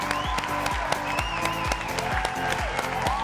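A TV studio audience applauds and cheers a coupé-décalé gospel singer, steady clapping with crowd shouts over a thumping rhythmic music beat.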